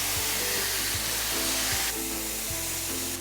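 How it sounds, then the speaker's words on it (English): A thin 1-inch ribeye marinated for kimchi steak sizzles loudly and steadily in a hot pan, giving a dense, close, continuous frying hiss with small shifts. No voices are heard. "You wanna hear that sizzle when you go into the pan."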